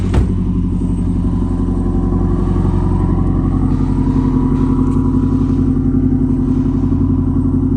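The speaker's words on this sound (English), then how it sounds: "Here's basically the cold start of my car." A Subaru WRX engine idles loudly right after a cold start, with a deep, steady, rumbling drone close by and an even exhaust throb that continues unchanged throughout.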